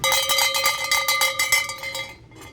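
Christmas bells jingled and rung close by in an antiques warehouse, a bright ringing clangor with repeated strikes that fades out over a couple of seconds.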